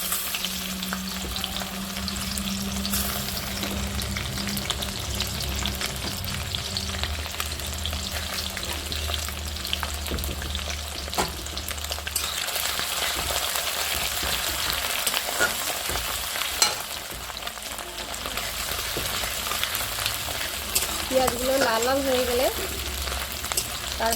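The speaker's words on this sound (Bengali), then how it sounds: "এদিকে আমার মাছ হচ্ছে এদিকে আমার মাছের তেলটা বসাচ্ছি" Shorputhi fish frying in hot oil in a pan, a steady close sizzle and crackle that runs the whole time, with a low hum early on and a few brief clinks near the end.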